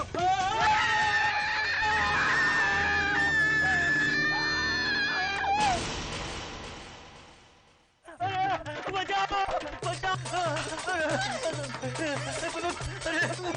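Loud, shrill screaming voices in a Hindi TV drama scene, sustained for several seconds over music, fading out, then resuming with frantic vocal cries and a rhythmic background beat.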